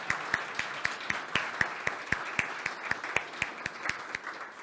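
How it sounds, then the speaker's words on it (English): Audience applause at a conference opening session: steady, even clapping from a modest crowd, moderately close and continuing throughout without talk over it. "Let's give Jan a round of applause for that."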